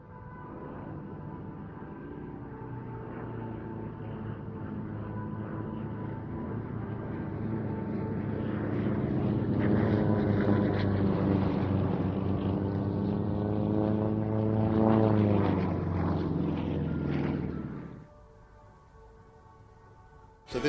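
Yak aerobatic aircraft flying in formation at an air show: a distant propeller drone that swells into a loud, shifting roar, then drops away abruptly near the end.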